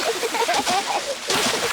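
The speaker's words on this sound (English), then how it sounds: "maybe that's enough splashing" Cartoon water splashing at the beach as pigs play in warm shallow sea water, soft sloshy splashes in a short burst, partly under cheerful character voices.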